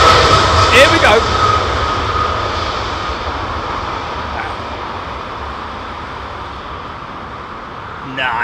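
A lightly loaded airliner takes off and climbs steeply at an airport, its engine roar loud at first and then slowly receding into a steady rumble, with a voice speaking briefly over it.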